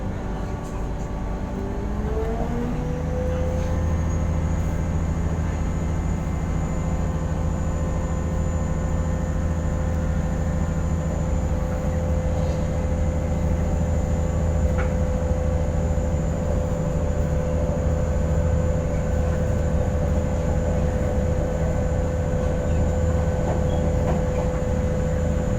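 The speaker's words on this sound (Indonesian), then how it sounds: "akhirnya jalan lagi keretanya" KA Jenggala train running from Sidoarjo toward Gresik, heard from inside as a steady loud rumble with a motor whine that rises and then holds, continuous throughout with no talking.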